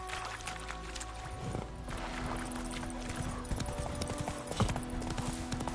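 Horse hooves clip-clop in a steady trotting rhythm in The Witcher 3, close and continuous, with faint background ambience.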